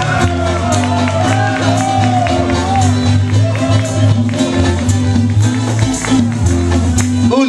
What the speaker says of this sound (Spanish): Aplausos, clap your hands para el señor Mister